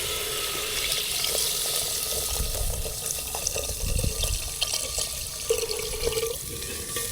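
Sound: water poured into cooking pot

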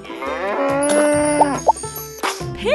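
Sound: cow mooing

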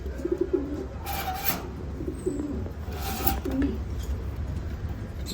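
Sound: fancy pigeons cooing

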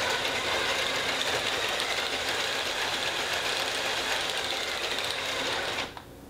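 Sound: motor of LEGO Helicarrier model running via PFx Brick

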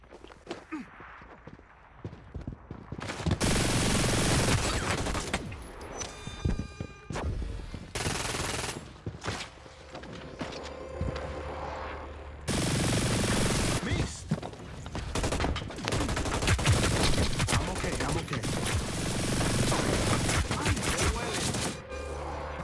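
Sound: minigun firing in the video game Hyper Scape

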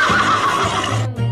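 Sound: horse neighing

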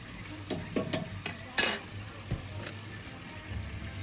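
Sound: papad frying in hot mustard oil

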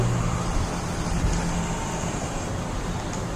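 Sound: car passing in FNAF horror video game

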